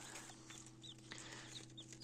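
Young autumn-winter chicks chirp in short high peeps, several spaced calls close by over a steady low electrical hum in a quiet indoor space.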